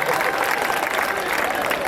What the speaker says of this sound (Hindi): जोरदार तालियां बजाए साहब मिलके